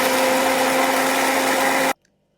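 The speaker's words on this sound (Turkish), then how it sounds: "Blenderden geçiriyoruz." Kitchen blender whirring loudly and steadily as it purees hazelnuts, olive oil, garlic, salt and black pepper into a salad sauce, then stopping abruptly and leaving silence.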